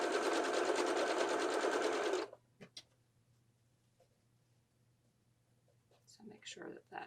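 A sewing machine hums rapidly while stitching piping onto a pillow, loud and close for about two seconds before stopping abruptly; faint clicks and handling noises follow, then soft, murmured speech near the end.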